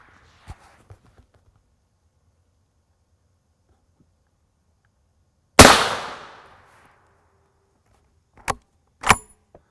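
Gunshot striking a ceramic Level IV armor plate, a single sharp loud crack with a brief decaying tail, followed later by two smaller sharp impacts, in an otherwise quiet outdoor setting.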